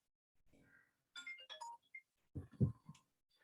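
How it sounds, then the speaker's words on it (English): A mobile phone ringtone goes off nearby during an online presentation, a short melodic electronic tune played in two bursts and fairly quiet. "I forgot to put my phone on vibrate."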